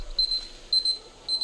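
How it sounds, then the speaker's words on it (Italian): A timer alarm beeps in three evenly spaced bursts of two sharp, loud electronic tones, heard alone against a quiet background. "scusate il timer che mi ricordava di guardare un po' se il video va bene"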